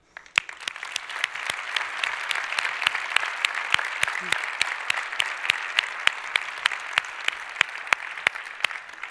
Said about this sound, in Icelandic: við gefum honum gott klapp